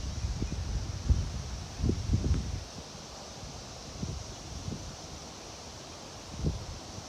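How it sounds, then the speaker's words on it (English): Storm wind blowing outdoors with a tornado forming, a steady rushing roar with low buffeting gusts against the microphone that swell and fade irregularly, no voices. "Wind is blowing"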